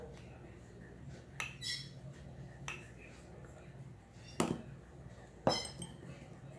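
A spoon stirs ground cinnamon into homemade dry-cough syrup, giving several sharp metallic clinks against the container spread over a few seconds, close and fairly quiet against a soft background.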